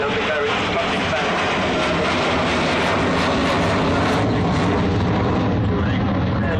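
An Avro Vulcan bomber roars overhead on a low overshoot at the 2012 Farnborough airshow, a loud continuous broadband engine rush filling the whole clip, with a faint voice mixed in.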